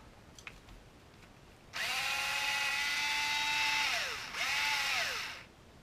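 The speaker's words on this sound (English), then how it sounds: "Alright, I guess the first thing we'll do is we'll take this bumper off." A power drill/driver whirs in two close, steady bursts, the first about two and a half seconds long and the second shorter, with pitch sliding down as each one stops. It is removing the bumper from an Axial SCX10 RC truck, and no one speaks.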